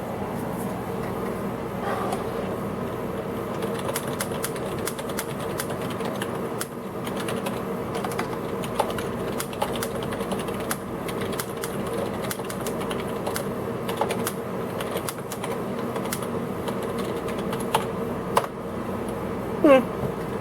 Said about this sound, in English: how does the typing feel compare with some other rubber dome keyboards that I have?